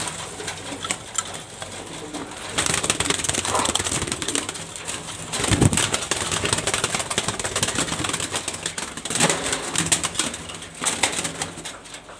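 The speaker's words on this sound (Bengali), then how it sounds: "এই যে মাদি কবুতর, এটা" A light-coloured female Super Mili pigeon in a loft in Mirpur 2, Dhaka, coos and flaps its wings against busy, noisy loft background, with a louder flurry about midway.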